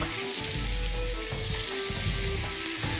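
Bread rolls fry in melted butter in a pan, giving a steady, close, bright sizzle that runs unbroken and alone with no talk.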